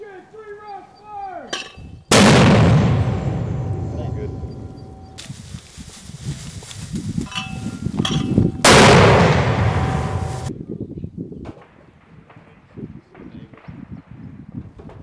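Fuji Viper mortar firing single rounds on a range: two loud, sharp booms a few seconds apart, each followed by a long rolling echo that decays into open-air ambience, with a shouted voice between.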